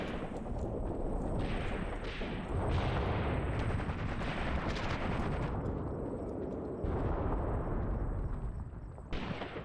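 Mortar fire in the Graviteam Tactics war game, heavy booming blasts and rumbling impacts mixed with bursts of gunfire in a dense, continuous battlefield din.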